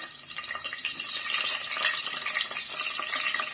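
Peppers with small slits cut in them frying in a little hot oil, a steady broadband sizzle with light crackles throughout, close and fairly loud, no talking.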